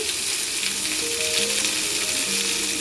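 Beans and carrots fry in a pan for a fried rice dish, giving a steady, close sizzle with a crackling hiss throughout and soft tonal ringing from the pan beneath, no voices.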